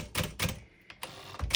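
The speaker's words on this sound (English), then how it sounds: "It looks like it's typing" A 1966 5AX Sterling manual typewriter that strikes but fails to print on the paper, several sharp, close key strikes in an uneven rhythm with short pauses between them.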